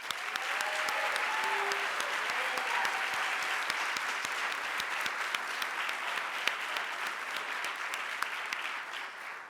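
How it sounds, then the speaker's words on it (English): Sustained applause from an awards ceremony audience runs for over nine seconds, a full steady wash of many hands clapping with a few faint voices mixed in. "Let's give everyone another round of applause."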